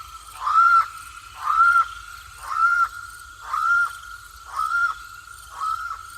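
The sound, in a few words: channel-billed cuckoo call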